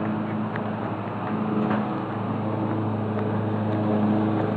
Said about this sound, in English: That's a really loud engine.